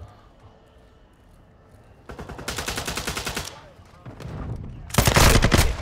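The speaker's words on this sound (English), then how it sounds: "Taking effective fire!" Gunfire in Call of Duty: Modern Warfare II: after a quiet stretch with faint voices, a long automatic burst rattles out, pauses briefly, then a second loud, dense burst follows.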